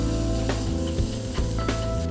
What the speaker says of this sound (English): Just saute it for around 30 seconds.